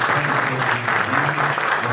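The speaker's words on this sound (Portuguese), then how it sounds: "eu queria também uma salva de palmas aqui ao nosso Fernando" A seated audience at a civic accounts presentation claps for a helper, a brief, steady wash of applause with a low hum underneath, continuous for a couple of seconds.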